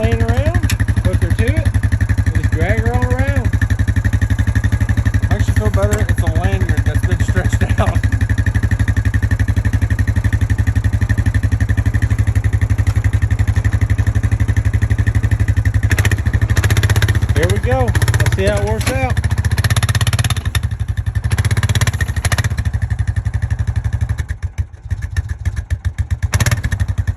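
An old Honda Foreman ATV engine runs loud and steady while dragging an old strut around, a continuous close motor drone with occasional revving and clatter.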